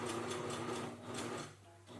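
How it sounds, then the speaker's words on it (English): A sewing machine runs steadily, top-stitching a nose piece into a fabric face mask, its fast rhythmic needle chatter loud and close before slowing to a stop near the end. "I'm gonna top stitch all the way around and sew the nose piece in place"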